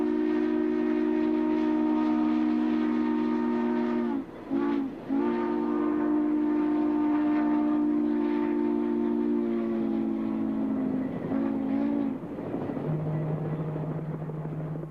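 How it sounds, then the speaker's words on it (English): Southern Pacific 4449, a steam locomotive, crosses the tall Redding Trestle over the Sacramento River, sounding a loud, sustained chime whistle in long held blasts with brief breaks, ending on a lower tone. "the train crosses the Sacramento River on another large trestle"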